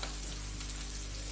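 Cumin seeds frying in hot oil with green chillies for a chicken and potato roll filling, a steady close sizzle throughout with no talking.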